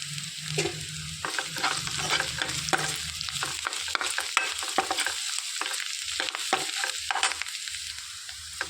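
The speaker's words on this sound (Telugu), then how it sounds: "ఇందులోనికి కొద్దిగా కరివేపాకు, కొద్దిగా కొత్తిమీర వేసుకొని వేయించుకోవాలి" Green chilies, curry leaves and coriander frying in a pan for a cauliflower pepper curry, giving a steady sizzle with frequent scraping stirs and short clacks throughout.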